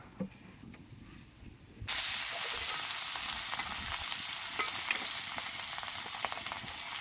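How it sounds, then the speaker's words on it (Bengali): Quiet, then a sudden loud hiss as rohu fish hits hot oil, settling into a steady, close sizzling that fills the rest. "একে একে মাছগুলো দিয়ে দিচ্ছি ভাজার জন্য।"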